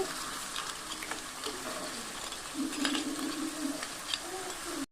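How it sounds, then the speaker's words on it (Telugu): Crab pieces fry in oil and are stirred in a pan, making a steady sizzle with scraping and stirring noises close by and occasional clinks of utensil on metal. "పీత ముక్కలు వేసిన తర్వాత ఒకసారి ఆయిల్ అయితే కలుపుకోవాలి."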